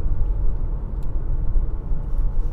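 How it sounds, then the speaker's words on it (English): Cabin hum of a 2025 Honda HR-V Sport's 2-liter four-cylinder engine on the road, a steady, subdued low rumble with road noise, no talking. "The 2-liter four cylinder, it's quiet."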